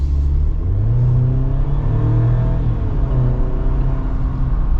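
A 2025 Jeep Wrangler Rubicon V6 running, a loud, steady low engine hum and rumble heard up close, constant for a few seconds with no talk.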